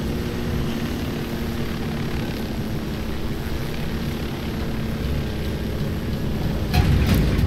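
Helicopter flying in Ghost Recon Wildlands, a steady droning rotor and engine roar that holds even and loud throughout, swelling slightly near the end.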